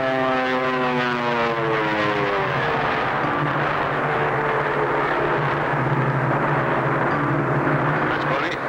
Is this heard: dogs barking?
no